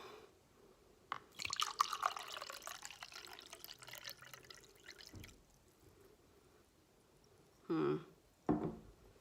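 Liquid poured into a glass witch bottle, a replica of a Civil War era charm, in a few separate bursts: a longer splashing pour near the start, then two short pours after a pause, close and fairly quiet.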